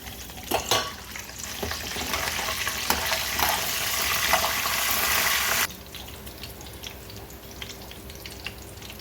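Urad dal and curry leaves frying in oil, a loud dense crackling sizzle with sharp pops at the start that drops abruptly to a quieter hiss about two-thirds through, close and with no speech.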